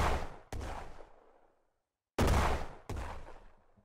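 Heavy towed guns fire in the Brick Rigs building game: four loud booming shots with long, fading decays, in two pairs separated by a short silence.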